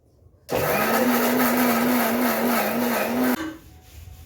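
A kitchen grinder whirs loudly and steadily for about three seconds as it blends spice paste, then cuts off abruptly and winds down.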